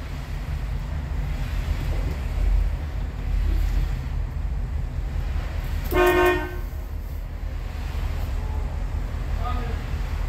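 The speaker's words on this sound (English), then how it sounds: "Did you hear that horn?" A single short car horn toot from a 1975 Chevy Caprice convertible sounds at a distance over steady wind and surf-like noise, with faint voices in the background.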